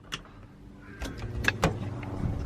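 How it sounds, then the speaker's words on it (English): A 240 drift car idles quietly, giving a low, steady rumble beneath a few sharp nearby clicks and knocks. "the car idles."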